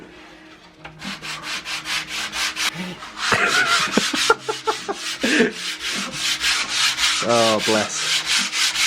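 Hand sanding on wood with 80 grit sandpaper on a sanding block for a custom car dash, a loud rhythmic back-and-forth scratching throughout, with a brief exclamation from a voice.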